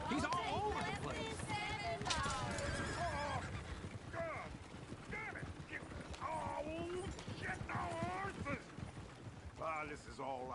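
Horses whinny and neigh repeatedly with clip-clopping hooves in the Red Dead Redemption 2 video game, the calls rising over a busy, continuous background as voices talk throughout.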